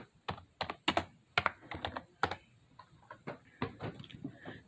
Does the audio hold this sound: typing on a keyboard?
yes